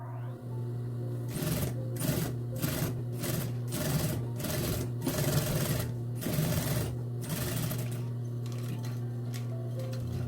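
A sewing machine stitches fabric for a doo-rag, starting with a low motor hum and then running in a series of rapid rhythmic stitching bursts with short pauses between them, close and clear with no talking.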